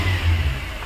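Tata Indica car engine revving up from inside the car, a loud steady low rumble that swells briefly, with no talk over it.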